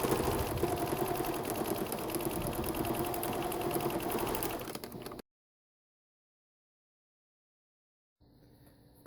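A sewing machine runs steadily while stitching the corner of curved suck pads with a ruffle for a Kinderpack carrier, loud and close for about five seconds, then stops, leaving silence before a faint rumble returns at the end.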